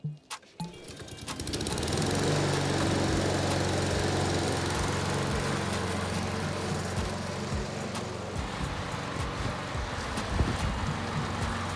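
A Honda HRR lawn mower starts with a few sputters, then its engine settles into a loud, steady running drone as the self-drive works, with small clunks and rattles near the end and no talking.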